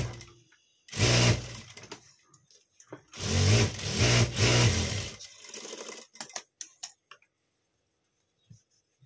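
A sewing machine stitching a blouse seam runs in two loud, close bursts of rapid rhythmic whirring, the second longer, followed by light handling clicks and rustles as the machine stops.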